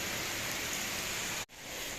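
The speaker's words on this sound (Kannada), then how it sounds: "ಅದನ್ನು ಒಳಕ್ಕೆ ಹೋಗುವ ಮಳೆ ಸಿಕ್ಕಾಬಿಟ್ಟು ಜಾಸ್ತಿ ಆಗ್ಬಿಟ್ಟಿದೆ ಮಳೆ" Steady heavy rain hisses continuously around a train on the Talguppa to Mysore line, cutting out for a split second before resuming.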